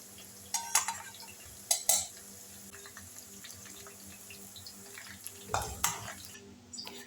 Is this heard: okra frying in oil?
yes